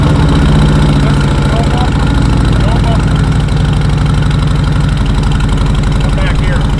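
A Harley-Davidson M8 motorcycle engine runs loud and close on new exhausts with no mufflers, a steady, deep, throbbing idle with fast regular pulses throughout.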